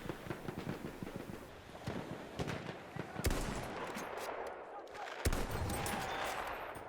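Pistol gunfire from the video game Battlefield 1, with sharp single shots at irregular intervals over a busy battlefield mix of distant shooting and noise.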